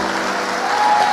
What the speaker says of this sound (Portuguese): Vamos dar um aplauso aqui?